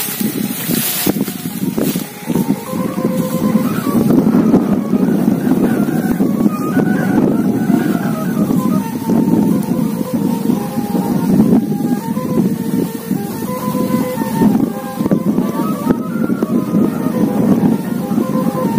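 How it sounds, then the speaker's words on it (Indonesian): Steady wind gusting across an open kite-flying field, a continuous loud rush with some tonal humming running through it, with no one talking. "Mulai angin"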